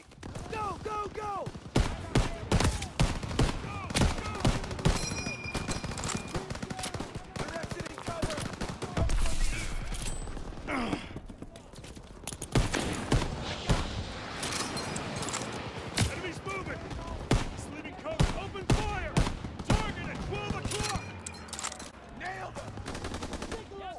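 Sustained machine gun bursts and rifle fire rattle through a World War II battle in Call of Duty WW2, with dense overlapping shots and combat noise under shouted voices throughout.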